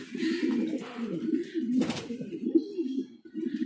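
Mundian pigeons coo close by in a series of soft, throaty, rolling calls, with brief gaps between the phrases and a faint rustle in the background.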